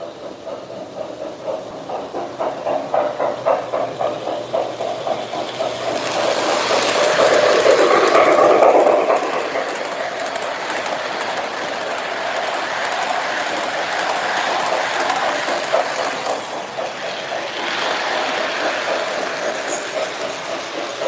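A smoking locomotive runs along the track in a Christmas layout setting, a steady rolling rumble with rhythmic clicking that swells louder around the middle as it passes near, then settles into a continuous moderate hum.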